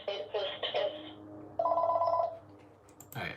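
A mobile phone rings in short, warbling tonal bursts, first a quick run of pulses and then a longer sustained ring, close and fairly loud, before a brief clatter.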